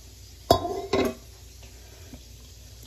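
Cooked macaroni is tipped from a pot into a colander in a home kitchen: two sharp metallic clanks close by, followed by quiet.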